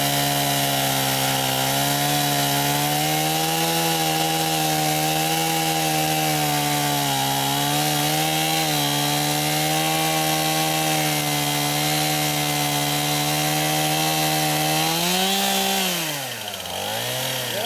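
A chainsaw bites steadily into the trunk of a very large tree during felling, a loud, continuous close-up engine roar that holds for most of the clip before easing off at the end.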